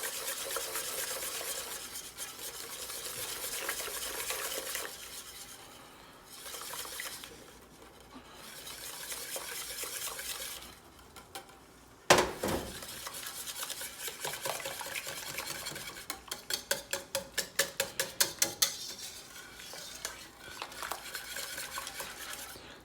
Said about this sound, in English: just put it in and get to stirring. And don't let up because it'll go clumpy.